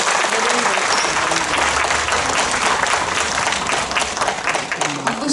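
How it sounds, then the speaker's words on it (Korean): Loud, sustained applause from the audience at a residents' briefing on the Ahyeon-dong 699 public redevelopment in Mapo-gu, Seoul. Dense clapping fills the room steadily for several seconds, with a voice faintly audible underneath. "말씀 전해주신 국장님께 다시 한번 큰 박수 부탁드립니다."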